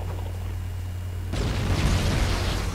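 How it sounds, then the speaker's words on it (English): Grenades set off a chain explosion in Halo: Combat Evolved Anniversary, a sudden loud boom at the midpoint that rolls into a sustained rumbling blast over low game background hum. "that was sort of an example of what I was saying earlier about the chain explosions being pretty dangerous"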